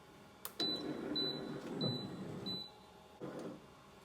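Heat press timer beeping four times in a short evenly spaced series during an infusible ink shirt pressing, each beep clear and high-pitched over a low background hum, with a brief thump near the start.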